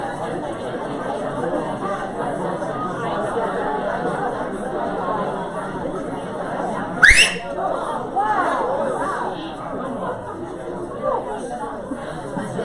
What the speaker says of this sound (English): It's a good whistle.